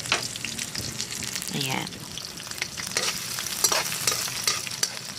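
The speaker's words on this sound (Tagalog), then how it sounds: "itagay na natin yung ating bawang sibuyas tsaka yung siling green sa mantika" Garlic, onion and green chili fry in hot oil, sizzling steadily and close while a utensil stirs and scrapes through the pan; a voice speaks briefly over the crackle.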